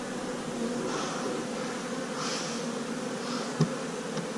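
Honeybees buzzing steadily inside a winter beehive on a warm January day, a continuous close hum with a few swelling passes of individual bees and one brief knock partway through.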